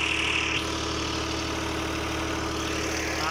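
A 1986 Fiat 480 tractor engine idles steadily while running a tube well pump, a constant low, even drone close by with no voices.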